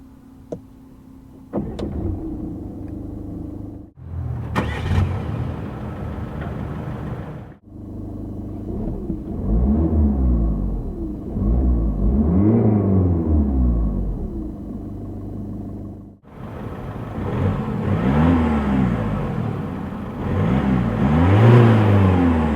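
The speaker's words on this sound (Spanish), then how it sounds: "Os voy a enseñar cómo suena. Este es el HDI de 130 caballos automático." Peugeot 308 HDI 130 hp diesel with automatic gearbox idles with a low rumble, then revs up and settles again in several swells over about twenty seconds, heard nearby with no one speaking.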